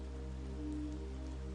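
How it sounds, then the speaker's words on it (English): A sudden rain downpour with a dense, steady hiss of drops on surfaces, faint and even throughout, over a low rumbling background and no voices. "despite the sudden downpour"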